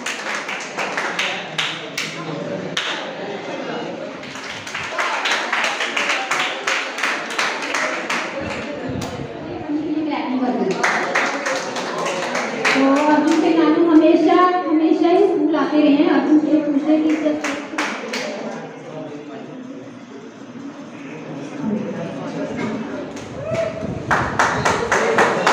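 An audience at a school prize-giving ceremony in Seer claps in short bursts at the start, in the middle and at the end, sounding fairly close. Between the bursts, someone speaks loudly over the crowd.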